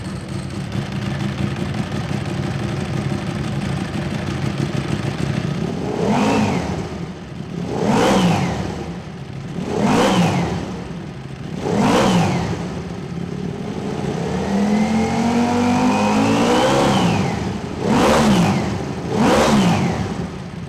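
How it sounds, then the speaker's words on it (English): A Ducati Desmosedici RR motorcycle with a GP7 exhaust idles, then revs repeatedly in sharp, loud blips that rise and fall, including one longer climbing rev, all close up with no talk. "the most impressive thing about this bike is how that GP7 exhaust sounds"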